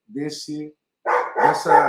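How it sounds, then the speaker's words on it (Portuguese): Several dogs bark at home, two short yaps and then a louder burst of overlapping barks close by. "vocês desculpem pela cachorrada, aqui é assim o tempo todo"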